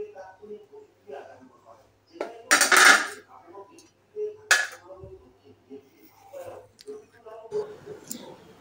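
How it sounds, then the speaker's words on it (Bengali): A metal spoon scraping and scooping gel from a cut aloe vera leaf, giving several short clinks and wet scrapes in uneven bursts, close and fairly loud, with soft speech now and then between the sounds. "চামচ দিয়ে এইভাবে অ্যালোভেরা জেলটা বের করে নেবেন।"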